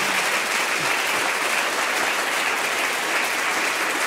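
A large audience claps enthusiastically after an orchestral performance in a studio show, dense sustained applause that stays loud and even from start to finish, with no voices standing out.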